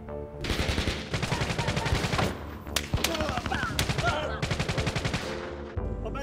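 Gunfire rings out in a dramatized reenactment of a deadly shootout near a family home, with rapid, loud bursts and repeated shots throughout, mixed with shouting voices.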